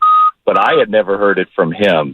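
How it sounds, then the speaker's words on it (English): A steady electronic beep tone sounds briefly in the background at the start, then stops as someone talks over a radio sports broadcast. "Sorry about that beeping in the background."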